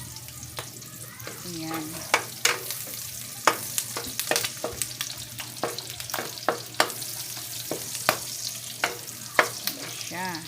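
Food sautés in hot cooking oil in a pan, with a steady sizzle broken by repeated sharp clacks of a utensil stirring and scraping, as a voice speaks briefly.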